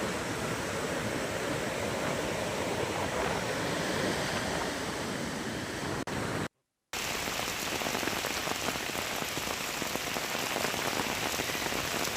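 Heavy rain pours down in Chelakkara, Kerala, with rainwater rushing across the ground. A dense, even roar of drops fills the whole stretch, broken only by one brief silent gap partway through.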